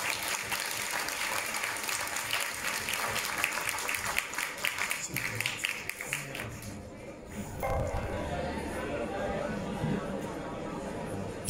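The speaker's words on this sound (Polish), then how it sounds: "Wielkie brawa, Janusz Gajos, zapraszam." Audience applause at the opening of an art exhibition for an artistic calendar, steady dense clapping for most of the clip that thins out near the end, with voices murmuring underneath.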